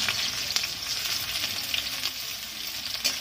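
Onion and dried red chili sizzle in hot oil in a pan for a masoor dal with potato, a continuous crackling hiss with small popping spatters, close and steady, with no talk.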